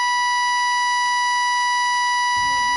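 An end-of-quarter buzzer in the basketball video game NBA 2K16 sounds as a steady, loud electronic tone held unbroken for the whole stretch, with faint low noise creeping in near the end.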